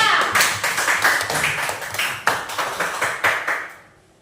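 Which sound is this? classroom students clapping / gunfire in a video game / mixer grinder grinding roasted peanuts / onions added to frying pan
classroom students clapping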